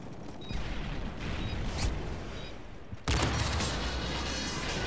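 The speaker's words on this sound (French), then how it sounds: "la grosse mitraille, elle me tue" Heavy machine gun fire in Call of Duty: Modern Warfare 3 during an online bomb-defusal match, a dense, continuous rattling fusillade that grows louder and harsher about halfway through.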